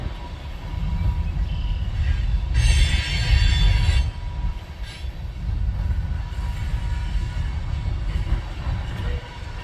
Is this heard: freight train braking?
yes